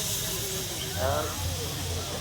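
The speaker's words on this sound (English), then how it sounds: "Steam Wagon, Sentinel, built in Shrewsbury." A Sentinel steam wagon, built in Shrewsbury, hisses steam steadily during a steam rally parade, a continuous broadband hiss with low engine rumble beneath and someone talking over it.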